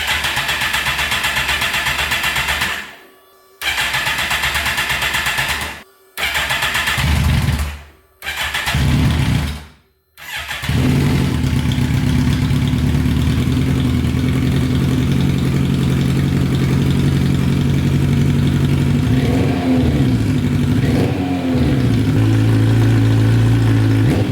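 A rebuilt Kawasaki ZX14 motorcycle engine cranks in several short bursts with brief pauses, then catches and settles into a loud, steady idle, running without coolant in a garage.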